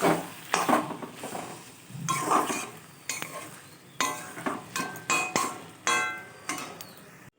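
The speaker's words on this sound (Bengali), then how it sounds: "ঘিটা দিয়ে আমি একটুখানি নেড়ে নেবো" Spoon scraping and stirring cooked taro leaves with ghee in a pan, a series of close, irregular clinks and scrapes with a faint sizzle underneath, no voices.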